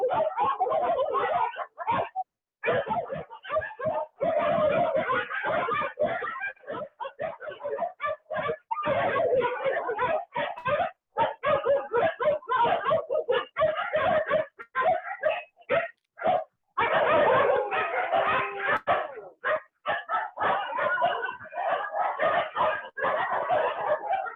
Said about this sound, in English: So we have 79 resident dogs in total right now.